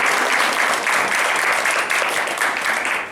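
A live stand-up comedy audience claps steadily and loudly, a dense, continuous wash of applause with no break.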